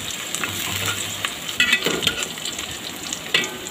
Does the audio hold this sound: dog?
no